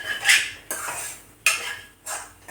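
A spoon scrapes and stirs grated fresh coconut roasting in a kadhai, making four rhythmic metallic strokes about half a second apart, close and clear with no talking.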